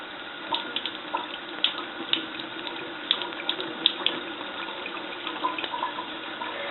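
Warm water is poured to water potted orchids in winter, making a continuous trickling splash with small irregular drips and plops and no talking over it.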